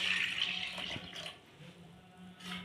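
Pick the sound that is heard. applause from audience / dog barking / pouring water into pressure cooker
pouring water into pressure cooker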